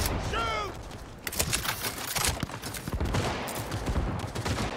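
Dense gunfire from weapons in the video game Cyberpunk 2077, sustained shots and bursts layered over a constant background of game audio throughout, with a short whistling tone near the start.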